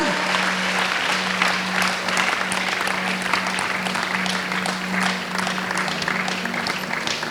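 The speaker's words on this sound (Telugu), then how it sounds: "చప్పట్లు కొట్టండి" Sustained audience clapping at a church fasting prayer gathering, a dense, steady wash of many hands lasting throughout, loud and continuous with a faint voice or tone underneath.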